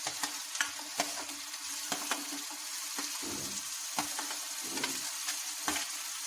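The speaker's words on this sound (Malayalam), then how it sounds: "ഇനി നമുക്ക് നേരത്തെ മുറിച്ചിട്ട് തക്കാളി ഇടാം." Chopped tomatoes fry in a pan for paneer butter curry, giving a steady close sizzle broken by repeated scraping stirs of a spoon, with no talking.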